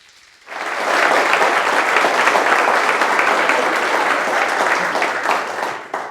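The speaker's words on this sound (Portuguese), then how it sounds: "eu quero pedir uma salva de palmas para o Ricardo e a Ivani." A congregation at a Seventh-day Adventist church worship service bursts into loud, sustained applause that swells quickly and holds steady for several seconds before starting to thin out at the end.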